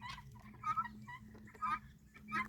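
Chickens roaming a backyard near a white shed make several brief clucking, honking calls in short bursts over a low steady rumble, fairly close, with no talking.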